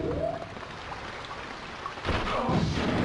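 Rain falls in a futuristic area of the first-person shooter Daikatana as a steady, even hiss. It swells a little louder over the last second.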